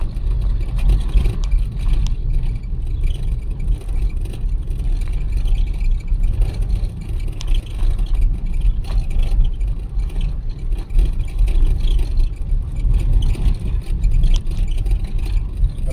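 A car drives at night with a steady low engine rumble and road noise from inside the cabin, continuous and fairly loud throughout.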